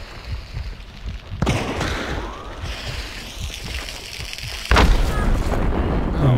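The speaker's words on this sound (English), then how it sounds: "God, I hate grenades in this game." A grenade blast in a shooter game lands as a sudden loud boom with rumbling debris, among ongoing rumbling and an earlier impact, with no voices.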